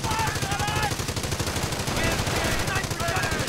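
Rapid, steady bursts of a .30 caliber machine gun in a World War II strategy game battle, continuous and dense across the whole moment, with a voice talking faintly underneath.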